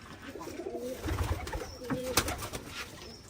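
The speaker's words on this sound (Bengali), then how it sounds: "কবুতর যেগুলো খাচ্ছে খেয়ে খেয়ে বেড়াচ্ছে অনেক কবুতর দেখে পাচ্ছেন" Soft pigeon coos murmur at low volume amid a busy ambient background of shuffling and faint noise at a pigeon farm, with no talking.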